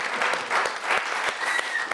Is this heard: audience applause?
yes